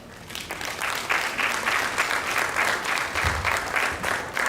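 Sustained audience applause at a sickle cell foundation event, steady and fairly loud throughout, with dense overlapping clapping from a crowd that swells slightly after the first second.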